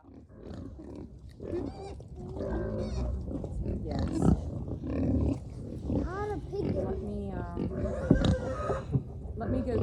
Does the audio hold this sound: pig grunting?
yes